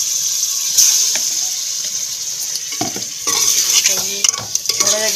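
A spoon stirs and scrapes meat frying with masala in a pot, with steady sizzling under repeated clinks and scraping strokes, close and fairly loud, with no talking.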